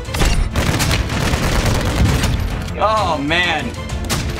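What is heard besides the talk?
gunfire from a weak gun in the video game Warzone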